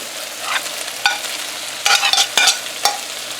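Shallots, onion and pepper stir-fried for chicken fried rice, with a steady close sizzle and a few sharp scrapes and clacks of the spatula against the pan.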